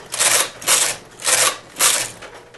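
Knitting machine carriage sweeping across the needle bed to knit rows on a zigzag panel join, four close, even swishing passes with short pauses between them.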